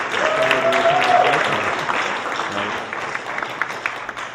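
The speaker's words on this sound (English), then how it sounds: "Give him a round of applause, please." An audience applauds at a festival event on state violence and community response, a steady wash of many hands clapping that slowly fades, with a voice briefly heard over it near the start.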